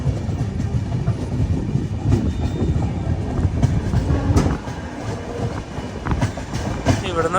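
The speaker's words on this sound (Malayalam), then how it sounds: "കുപ്പം റെയിൽവേ സ്റ്റേഷനിലേക്ക് നമ്മുടെ വണ്ടി എത്തിക്കൊണ്ടിരിക്കുകയാണ്." An Uday double decker train pulling into Kuppam railway station, heard from on board as a steady rumbling roll with rhythmic clickety-clack of the wheels and faint squeals, voices murmuring in the background.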